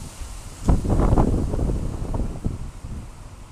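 Gusty wind buffeting the microphone in loud low rumbles, rising and falling over a steady background hiss.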